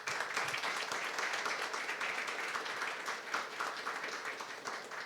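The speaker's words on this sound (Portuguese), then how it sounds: "Salva de palmas." Applause from the audience at a leadership talk show, a steady wash of clapping at moderate volume that fades slightly toward the end.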